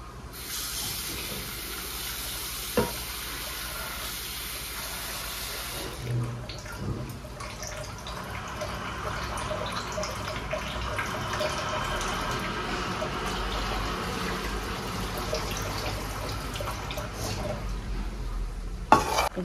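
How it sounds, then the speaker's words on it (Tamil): Tamarind dried-fish curry (karuvadu kuzhambu) bubbles in a pot with a steady hissing simmer, punctuated by occasional scraping stirs, continuous and fairly close with no talk. "நம்ம புளி சேர்த்துனதுக்கப்புறம் நல்லா கொதிக்க ஆரம்பிச்சிருச்சு"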